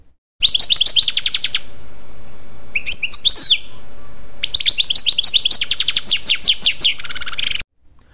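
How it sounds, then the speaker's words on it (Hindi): A goldfinch chirps loudly in a laburnum tree on a September afternoon, giving close, bright bursts of rapid twittering notes separated by brief pauses, with no other sounds around it. "तभी गोल्डफिंच पक्षी उच्च स्वर में कोलाहल करती हुई अमलताज के पेड़ पर आती है"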